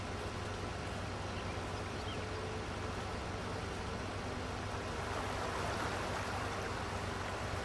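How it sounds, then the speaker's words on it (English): Running water from an aquifer in the Farming Simulator 19 video game, a steady, even wash of noise that continues throughout without any break. "I just run over an aquifer again. I keep hearing water sounds."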